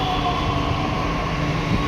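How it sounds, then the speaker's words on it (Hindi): A Delhi metro train pulls into the station with a loud, steady rumble and hum of the carriages, continuous and close, with no talking over it. "आ गई मेट्रो"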